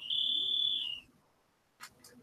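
A paranormal detection device with an added buzzer goes off, sounding a steady high-pitched tone for about a second before cutting out, followed by a faint short blip.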